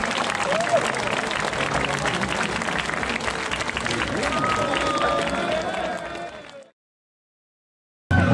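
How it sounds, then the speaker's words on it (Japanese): A crowd at a shrine festival procession in Esashi, Hokkaido claps and cheers, loud and sustained, with voices mixed into the noise. It cuts off abruptly near the end and leaves a brief silence. "最後たくさんの拍手をお願いいたします"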